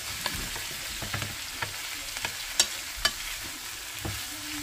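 A nearly cooked bitter gourd omelette sizzles quietly in a frying pan while a utensil stirs it, adding scattered light clicks and scrapes over the steady frying hiss, with no one speaking.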